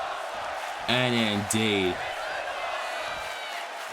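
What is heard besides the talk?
crowd cheering in WWE 2K25 video game arena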